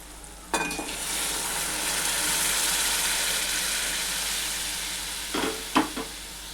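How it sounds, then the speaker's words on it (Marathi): Dal added to a pot in a Gujarati dal dhokli recipe, with a steady sizzling, bubbling hiss and short clinks of a spoon stirring against the pot near the start and end. "तर आता मी याच्यामध्ये डाळ टाकते"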